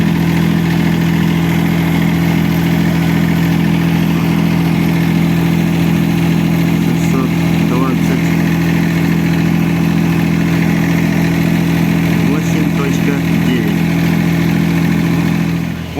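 A CAT 301.5 mini excavator's diesel engine idles steadily at close range, a loud, constant low drone with an even mechanical throb that holds unchanged throughout.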